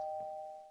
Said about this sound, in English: Yes, the doorbell works.